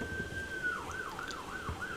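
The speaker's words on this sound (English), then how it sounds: "all these sirens, I'm getting a little hungry." A wailing siren rises and falls in repeated sweeps, loud and steady over a faint low rumble of background noise.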